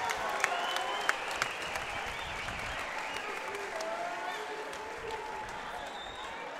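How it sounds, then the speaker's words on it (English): Crowd at a Shamrock cage fight event claps for both fighters after the bout, sustained close applause with scattered sharp claps and faint voices mixed in throughout. "let's give both of these fighters a big round of"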